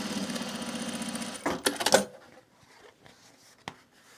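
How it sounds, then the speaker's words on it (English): A sewing machine top stitches across a self-drafted bag with a steady rapid running hum, stops abruptly, and is followed by a few sharp handling clicks and knocks at close range. "So let's top stitch across here."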